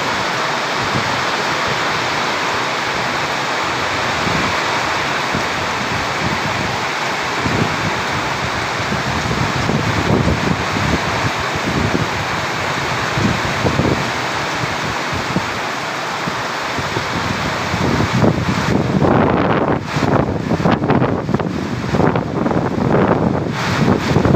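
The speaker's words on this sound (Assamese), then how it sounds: "বেংগলোৰ বৰষুণ দি আছে, পুৰা ধামাকা বৰষুণ দি আছে" Heavy rain pours down in Bangalore in a dense, continuous roar, with gusty buffeting bursts toward the end and no voices.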